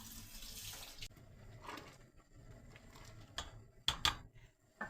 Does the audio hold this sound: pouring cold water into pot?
yes